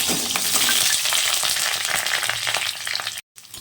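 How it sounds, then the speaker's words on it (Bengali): Drained boiled potatoes fry hard in hot mustard oil, a loud steady sizzle with scraping stirs, cut off briefly near the end. "আগে থেকে সিদ্ধ করে রাখা আলু জল ঝরিয়ে রেখেছি সেটা দিয়ে দেব"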